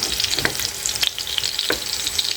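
Longganisa sausages fry in a pan with a constant close crackling sizzle and a few sharp pops and stirring scrapes breaking through.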